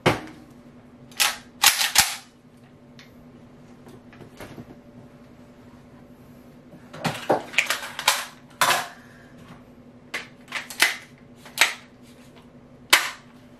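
Gunshots from a Galil ACE / Arsenal AK74 rifle: sharp, fairly faint reports that come in scattered clusters, some quick bursts and some single cracks, separated by quiet gaps.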